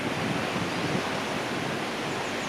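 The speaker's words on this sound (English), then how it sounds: "definitely worth sneaking down and around to come check out the waterfall from this angle though" Steady broadband rush of water falling at Scaleber Foss in Yorkshire during a dry spring, a continuous close roar with no voices over it.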